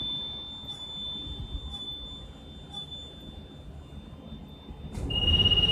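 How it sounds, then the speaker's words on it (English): A bus's steady, high-pitched low air pressure warning buzzer drones continuously over a low rumble during an air brake test, then jumps to a brighter, louder tone near the end. "Now what you hear is my low air buzzer"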